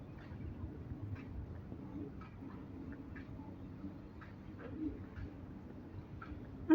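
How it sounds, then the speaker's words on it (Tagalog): Pigeons or doves coo and call softly outdoors at Tai O on Lantau Island, Hong Kong: faint, repeated short calls over a steady low background rumble, with no talking. "Oo, may ibon."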